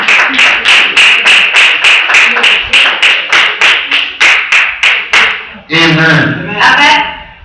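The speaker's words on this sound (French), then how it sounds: "Let's start with Jesus. Acclamons Jésus" A church congregation claps together to acclaim Jesus, loud rhythmic unison claps in a steady beat that break into looser, scattered clapping with voices near the end.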